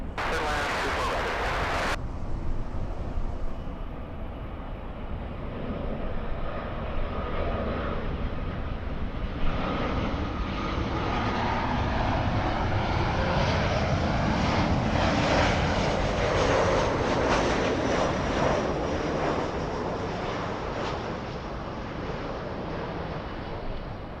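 An airliner lands on runway 24 right at Los Angeles LAX, its engine roar swelling and lingering at moderate loudness with wind rumble, and no clear voices.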